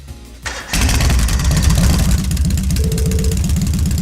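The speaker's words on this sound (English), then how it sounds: "first starting up the engine" Motorcycle engine starting in the video game Trails of Cold Steel: a brief crank, then the engine catches and settles into a loud, steady, throbbing idle.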